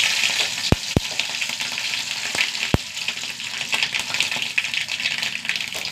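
Mustard seeds and dried red chillies fry in hot coconut oil with a steady, hissing sizzle, broken by a few sharp, loud pops as seeds burst.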